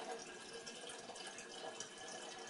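Water pours steadily into a container for tea, a continuous soft splashing hiss that stays even and fairly faint throughout.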